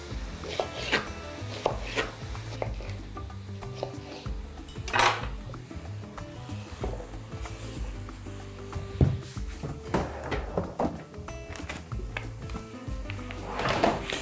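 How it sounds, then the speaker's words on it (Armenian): Knife chopping sweet pepper into pieces about 3 cm long on a board, steady close knocks and clatter amid dishes and utensil sounds in a busy kitchen. "քաղցր պղպեղ, շատ մանր չենք կտրատում, այսպես և մոտ 3 սանտիմետր երկարության կտորների"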